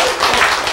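An audience claps together in a brief, dense burst of applause at a lecture, bright and close, lasting under a second.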